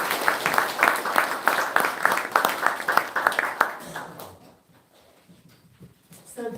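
Audience applause at a commemorative international symposium, dense clapping for several seconds that fades out abruptly, leaving near silence with faint room sounds.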